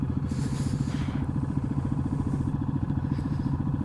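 Yamaha XT250 motorcycle engine running with a rough, rattling sound, a steady fast mechanical clatter held close and even throughout with no talking.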